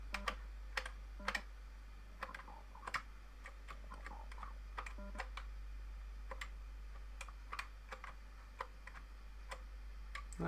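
Keys on a Commodore Amiga A1200 computer keyboard are tapped during a game, giving sparse, irregular clicks and short bursts over a steady low electrical hum, with no talk.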